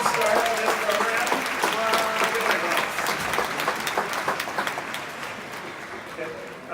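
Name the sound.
audience applause at TEDxUCLA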